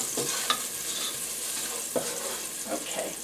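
Garlic sizzles in a pan for baked pasta alla Norma with eggplant, a constant close frying hiss broken by a few scraping stirs.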